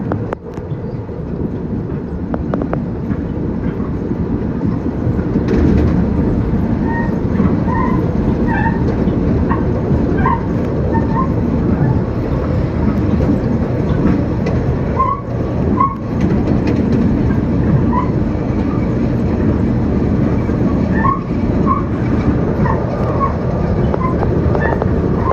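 An express train runs on rails from Jamaica to Babylon near Lindenhurst, crossing Strong Avenue. Its loud, continuous rumble and rolling rail noise is steady and close for the whole stretch, with faint higher clanks on top.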